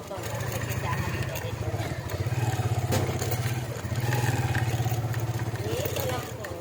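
A motorcycle engine runs steadily nearby with a low, throbbing putter, and voices are heard over it.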